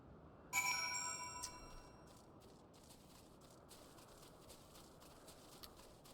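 Horses clip-clop in the Final Fantasy XIV video game, a bright game chime followed by a faint, steady patter of hooves in the background.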